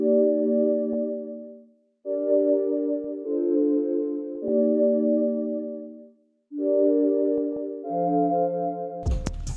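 Synthesizer chords from the Like Usual preset in the Loophole expansion play in short sustained phrases separated by brief silences, clean and mellow, ending in a sudden burst of noise.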